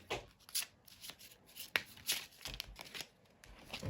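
Cards are shuffled for a tarot-style card reading, a run of quiet, crisp riffling bursts and soft flutters repeating every half second or so, close and alone without talk.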